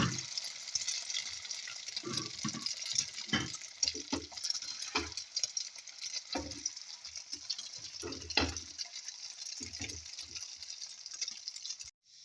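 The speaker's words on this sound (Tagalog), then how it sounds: "I make fry egg" Single egg frying in a pan over a flame for garlic fried rice, a steady hiss with scattered stirring clicks and scraping, fairly close and even throughout.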